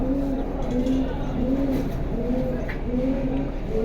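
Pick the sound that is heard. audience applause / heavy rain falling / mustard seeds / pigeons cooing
pigeons cooing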